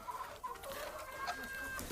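Hens on a poultry farm cluck steadily and close by, with a busy overlapping flock chatter and occasional higher calls standing out, and no talking.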